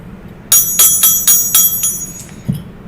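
A small hand bell rings out at the close of an evening class, struck about six times in a quick, bright, steady rhythm before the tone fades, loud and close with no voices.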